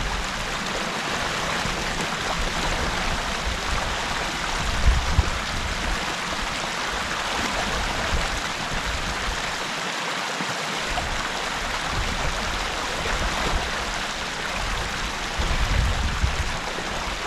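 Creek water rushing steadily through a beaver dam at Beaver Dam Creek, a continuous loud broadband wash with no pauses and no voices.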